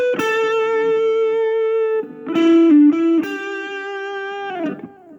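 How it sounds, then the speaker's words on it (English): Electric guitar lead played with overdrive distortion and a touch of echo, sustained notes and a short run of bends, fairly loud and alone with no talking. "So with a little bit of distortion, maybe a hint of echo,"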